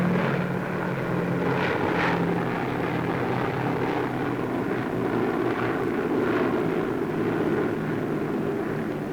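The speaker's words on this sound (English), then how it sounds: "United States bombers take off from bases in the Arctic to blast the remaining Japanese on Kiska" United States bomber aircraft taking off from Arctic bases for Kiska Island in the Aleutians, a loud continuous propeller-engine roar that stays steady throughout, with no voices over it.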